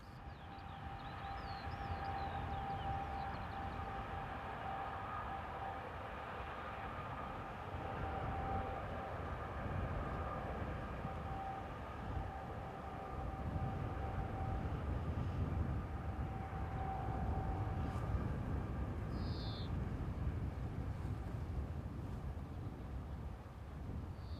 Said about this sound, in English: Class 75 number 108 heads north on a rake of loaded stone hoppers.